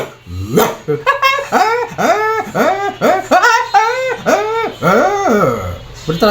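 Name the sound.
man imitating a dog barking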